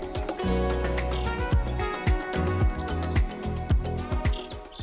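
Small birds chirp and tweet in a park beside a little duck lake, with bright, rapid calls repeating close by over a busy backdrop of softer song.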